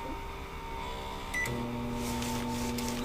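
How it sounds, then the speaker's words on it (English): A steady microwave hum runs throughout, shifting to a deeper, louder drone partway through, with a few faint clicks. "we're gonna put it in our microwave over here"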